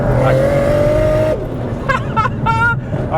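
A single-turbo BMW E46 M3 carrying an N54 engine pulls hard with a steady rising drone, then cuts off abruptly partway through, leaving brief turbo hiss and chirps behind.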